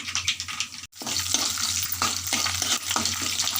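Tempering spices, dried red chillies and crushed small onions sizzle and crackle steadily in hot oil in a pan, close and loud, with brief stirring scrapes and no talking.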